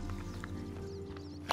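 A horse's hooves clip-clop in a video game, a quick run of light, rhythmic hoof knocks over a steady low engine-like drone, ending in a louder sharp hit.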